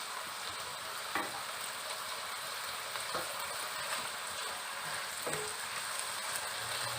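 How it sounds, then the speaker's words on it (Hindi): Spring onion and capsicum sauté in a hot pan for a chicken vegetable pasta, a steady close sizzle broken by a few sharp stirring scrapes spaced a couple of seconds apart, with no voices. "स्प्रिंग अनियन, कैप्सिकम और इनको 1 मिनट सॉटे करेंगे।"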